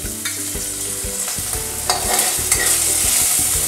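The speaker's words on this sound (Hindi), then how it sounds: "बटर मेल्ट हो चुका है, अदरक लहसुन का पेस्ट।" Ginger garlic paste fries in melted butter in a pan, giving a steady close sizzle with a spoon scraping and stirring in repeated strokes, no voices.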